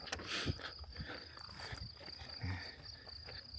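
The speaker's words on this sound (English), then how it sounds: "you hear the crickets. This is the noise you get." Crickets chirp steadily in a high, thin trill on a farm in Castelo Branco, Portugal, with a few faint rustles and soft thumps nearby.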